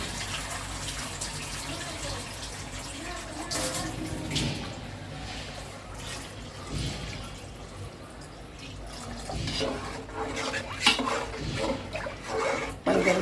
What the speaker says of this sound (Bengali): আমি এখন পরিমাণ অনুযায়ী পানি দিয়ে দিচ্ছি।